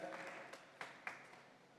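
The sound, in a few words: one person clapping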